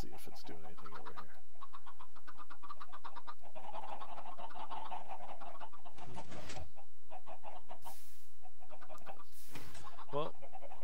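Chickens in the video game Minecraft cluck in repeated bursts, fairly close and clear, while a person talks over them and a few sharper sounds cut in.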